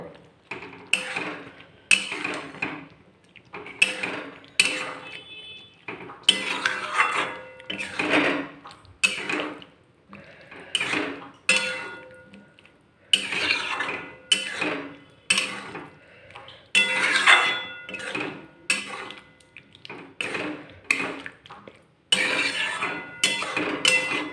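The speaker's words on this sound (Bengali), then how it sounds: "এরপর পনিরকে ভালো করে গ্রেভির সঙ্গে মিশিয়ে নেব।" Paneer pieces are stirred into a pea and paneer gravy in a pan, with bursts of scraping and clinking from a spoon against metal that come in a steady rhythm, separated by short pauses.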